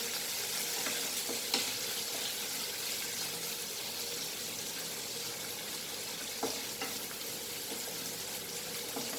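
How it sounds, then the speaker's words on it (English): Onion frying in a pan gives a dense, continuous hiss of sizzling oil that holds steady throughout, close up, with a couple of faint utensil taps and no voices. "Fry the onion nicely."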